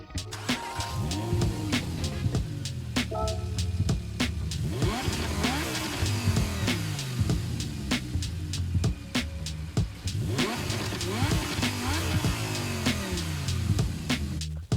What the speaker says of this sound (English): Let's go ahead and take a look and a listen to this Lamborghini